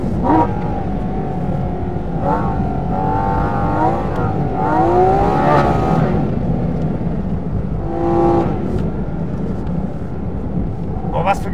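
Porsche 718 GT4 RS driven fast around an ice race track, its engine a steady, loud in-cabin drone with rising and falling revs and wind noise throughout, while people talk over it.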